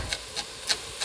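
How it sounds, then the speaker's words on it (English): Knife chopping celery on a cutting board for a seafood chowder: four crisp, evenly spaced crunching chops, close and fairly quiet, with no talk. "there's something so satisfying about chopping celery, I swear. It just goes really fast and it makes a really good crunching noise."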